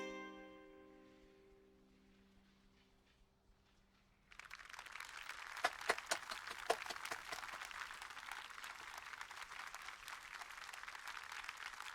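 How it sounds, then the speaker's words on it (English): Applause in the video game Xenoblade Chronicles 2: after a fading tone, a crowd bursts into steady clapping that carries on at moderate volume with no pause. "Round of applause."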